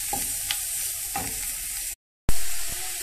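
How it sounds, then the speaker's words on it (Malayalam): Chopped banana stem for a Kerala-style thoran is tossed and stirred in a hot frying pan, a steady close sizzle with light scraping strokes, a brief cut to silence, then sizzling again. "ഇനി നമുക്ക് പിണ്ടി അരിഞ്ഞതിട്ട് കൊടുക്കാം."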